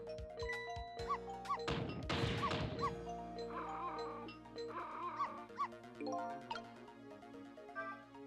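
A dog barks and yips in Ghost Trick: Phantom Detective, short sharp barks repeating over a bright game music backdrop with chiming tones and a brief crashing burst.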